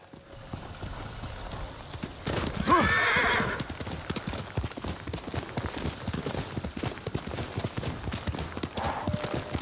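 Rapid hoofbeats of a galloping horse in Ghost of Tsushima with a brief whinny rising in the middle, over steady ambient game sound and faint background noise.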